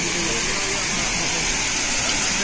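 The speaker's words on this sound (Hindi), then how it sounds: "देखिए झरना" Steady broadband rush of a waterfall beside the mountain path near Jungle Chatti on the Gaurikund-to-Kedarnath trek, a continuous roar filling the clip with no clear breaks.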